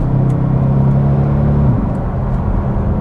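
A loud 6.2-litre naturally aspirated V8 engine in a W204 Mercedes C63 AMG roars and pulls hard up close, a steady deep rumble with a rising tone that shifts partway through as it accelerates.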